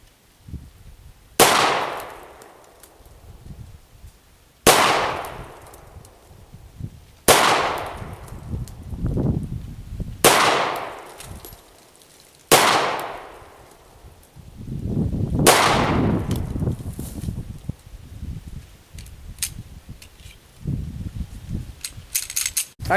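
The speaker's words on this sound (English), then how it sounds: "Greg wants to show me how the Kahr shoots" Five sharp gunshots from a Kahr K9 pistol ring out outdoors at steady intervals of about three seconds, each a loud crack with a decaying echo, and no talk between them.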